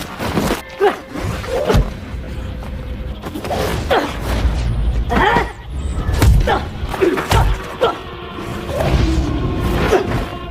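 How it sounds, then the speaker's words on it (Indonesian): Film fight scene full of heavy thuds, blows and whooshing swings, loud and dense over a rumbling score, with voices mixed in among the impacts. "Dan perkelahian pun tak terelakkan lagi."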